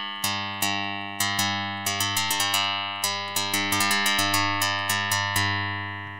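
A synthesizer strikes the same note again and again, about a dozen bright plucked attacks with uneven spacing, each decaying slightly differently in tone, close and clear with no talking.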